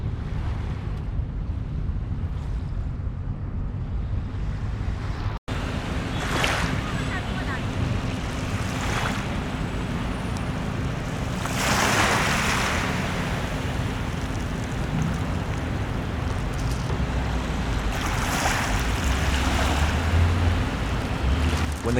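Waves washing over a pebble beach along the Manila shoreline, a steady broadband wash with periodic surges as sets break, mixed with gusty wind rumble across the microphone; no talking.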